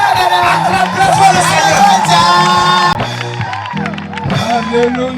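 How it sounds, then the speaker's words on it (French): A crowd at an evangelical crusade gathering cheers and shouts with joy, loud sustained voices and whoops layered over music-like tones, filling the whole stretch without pause. "Nous allons pousser des cris de joie"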